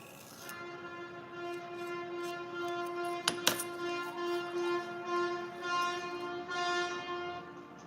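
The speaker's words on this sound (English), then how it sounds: "Well, there's a lot of honking." A sustained train horn sounds steadily for several seconds, rich and tonal with a swelling level, joined briefly by a couple of sharp metallic clanks partway through.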